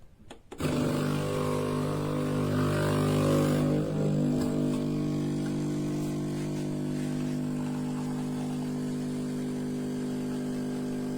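A Philips L'Or Barista Original double-capsule coffee machine starts abruptly and runs with a loud, steady pump hum and buzz that holds for about eleven seconds, with no talking.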